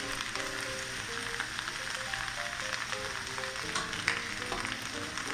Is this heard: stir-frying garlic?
yes